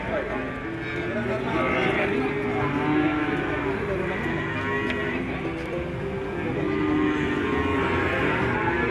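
Cattle and calves moo repeatedly at a busy calf market, several animals lowing near and far over a steady crowd murmur, with people talking throughout.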